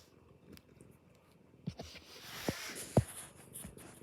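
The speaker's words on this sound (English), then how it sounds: "that was my kitty rubbing up against my iPad" A cat purrs softly and steadily close up while rubbing against an iPad, with scratchy brushing and a few sharp bumps as its body presses on the tablet.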